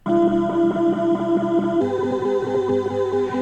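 Auto-tuned breakbeat, dry with no distortion effect: a steady, pitched drum loop with bright tonal harmonics riding each hit, looping at a brisk tempo and shifting pattern midway, loud and alone.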